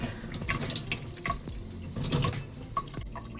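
Tap water runs from a faucet for watering Hoya houseplants, a steady close splashing flow broken by small drips and knocks.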